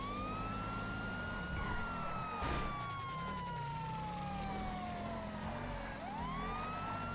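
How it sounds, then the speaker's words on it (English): Police sirens in Grand Theft Auto wail continuously, their pitch sweeping up and down, with an engine rumbling underneath and no one speaking. "can everyone turn on their sirens?"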